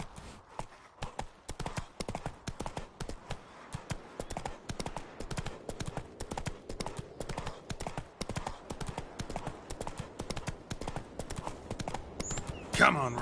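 The horse Roach gallops in The Witcher 3, hooves pounding in a fast, steady clip-clop rhythm that runs nearly the whole time, with a voice speaking over it.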